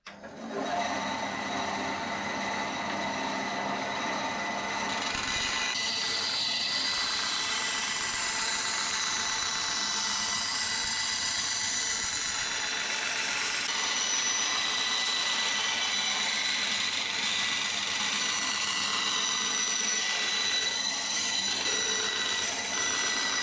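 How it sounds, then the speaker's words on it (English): Bandsaw trimming the waste from a wooden guitar neck, a steady loud mechanical whine and hum running continuously throughout with a blade cutting tone rising and shifting in the middle. "So I'm going to get that over to the bandsaw now, trim that off a little bit outside the white line"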